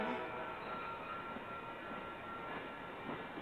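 An Amtrak train with trailing baggage cars rolls past at close range, a steady, loud rumble of wheels and cars that holds without a break.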